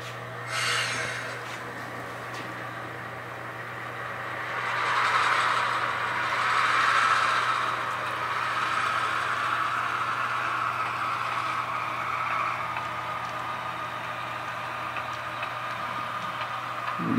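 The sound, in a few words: model train shoving cars back in yard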